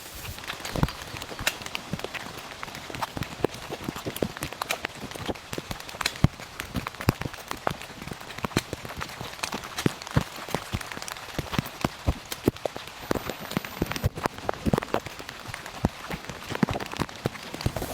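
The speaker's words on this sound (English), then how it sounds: "This is, yeah, some of the worst rain I've seen in a while." Heavy rain pelting a surface outdoors during a wet camp, a dense constant patter of sharp drops with frequent louder close hits throughout, steady and unbroken with no talking.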